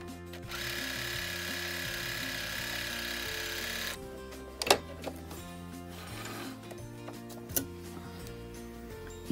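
A Jaguar sewing machine fitted with an overlock side cutter foot runs at a steady mechanical whir for several seconds, then slows into uneven stitching bursts and clicks, close and alone without talk.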